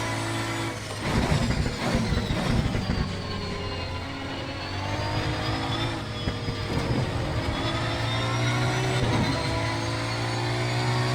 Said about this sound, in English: I love the V12. I just love the way this thing sounds.